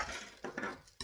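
A utensil stirs honey into cake batter in a bowl, giving a soft scraping swirl with a few sharp clinks against the side, close and quiet.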